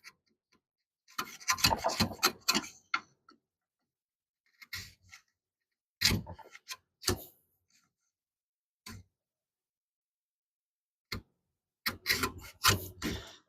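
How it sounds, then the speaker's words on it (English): Chisel shaving down a wooden deckbox in a workshop, several short scraping, rasping strokes separated by long silent pauses, close and fairly quiet with no talking. "See if we can chisel it down just a little bit more."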